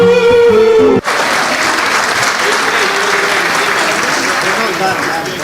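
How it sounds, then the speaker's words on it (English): Auditorium audience breaks into loud, sustained applause just after music cuts off, dense clapping filling the room with a few voices underneath. "A great round of applause for all of the beautiful ladies here"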